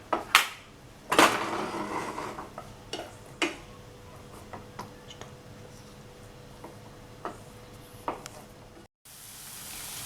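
Onions soften in a pan while a utensil stirs them, giving sparse scrapes and light clicks over a faint low sizzle, with a couple of louder knocks near the start before the sound cuts off briefly near the end.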